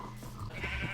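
A Minecraft sheep bleats once in a crowded sheep and cow pen, a short wavering call heard up close and alone.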